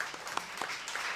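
Brief, fairly quiet applause from a small audience at a book presentation, a handful of distinct claps over a soft wash of clapping.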